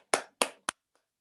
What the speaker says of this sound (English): Let's give a round of applause to Mubanga